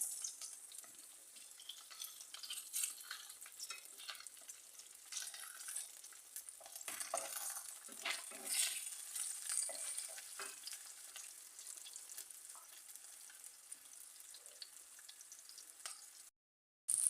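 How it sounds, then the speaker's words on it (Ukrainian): Pears sizzle and crackle steadily in a hot pan, a continuous close frying hiss with occasional stirring scrapes, no voices. "Обсмажуємо груші в двох боків до середньої такої е, готовності"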